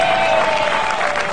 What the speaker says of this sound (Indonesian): Tepuk tangan dulu buat Anggun ya.